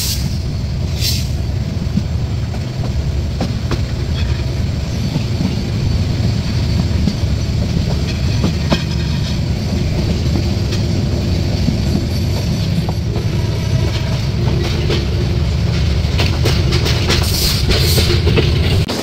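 The Suborno Express, a Bangladeshi train running from Chattogram to Dhaka, rolls steadily along the rails with a continuous loud rumble and rattle of the cars, heard from on board and constant throughout.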